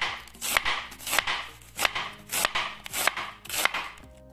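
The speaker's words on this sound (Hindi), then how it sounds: "ये कटिंग कर रहे हैं कैबेज की" Cabbage being cut with a knife makes a steady series of crunchy strokes, about two per second, each a crisp rustling swipe ending in a tap on the board, close and alone.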